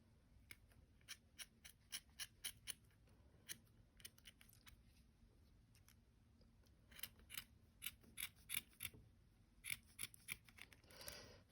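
Dull metal scissors snip a yarn pom-pom in quick bursts of crisp cuts, trimming long stringy strands while shaping it for a little yarn hat; the snips are close and clear, and no one speaks.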